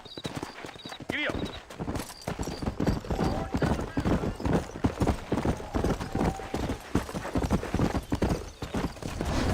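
Horse hooves clip-clop in a steady trotting rhythm in Red Dead Redemption, close and clear, with a brief whinny early on and game voices speaking over the hoofbeats.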